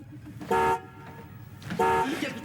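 Sci-fi spaceship horn in a comedic space setting, sounding as two loud harmonic honks, each about a quarter-second long, roughly a second apart over a low rumbling background.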